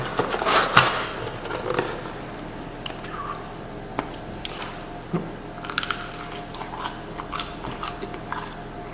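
Bites and chews through the hard, overcooked butter crust of a Hungry Howie's pepperoni pizza, a loud crunchy burst at first followed by quieter, scattered chewing and small crunches close to the mouth.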